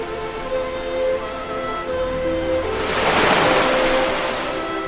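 Baltic Sea waves roll onto a Latvian sandy shore, a broad surf wash swelling and breaking midway under steady wind with a low tonal hum.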